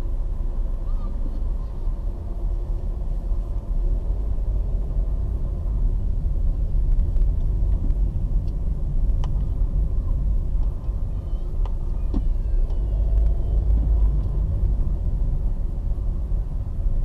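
Steady low rumble of vehicles moving along a township road in Ngombe, Lusaka, Zambia, a continuous drone of passing engines and tyres with a few faint higher clicks and sounds over it.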